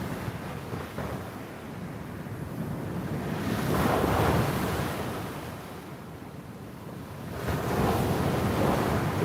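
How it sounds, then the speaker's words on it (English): Sea waves surge and break against the foot of a seawall at Cleveleys, a continuous washing roar that swells in two louder pulses, mixed with some wind noise on the microphone. "You can probably hear the waves at the bottom of the wall, banging against the wall."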